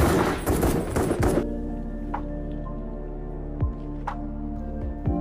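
A dense burst of gunfire in the first second and a half, then scattered single shots ringing out over a low, steady hum.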